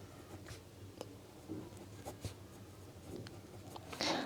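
A pen scratches on paper as a geometry proof statement is written out, giving quiet, close, intermittent strokes and taps under a faint room hum, with no talk.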